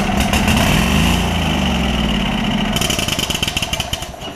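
A Kohler Command V-twin engine on a Lincoln Ranger 8 generator welder, suffering a carburetor fuel delivery fault, roars loudly and unevenly near by, then breaks into rough, pulsing cranking beats that fade as it fails to catch.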